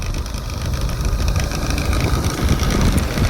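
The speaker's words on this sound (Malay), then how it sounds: "Sebab bunyi motor ni tak bising ah." A motorcycle engine runs steadily nearby in a forest setting, a continuous low rumble with no talk over it.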